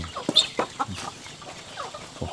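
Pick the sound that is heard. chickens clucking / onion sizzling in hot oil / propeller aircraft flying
chickens clucking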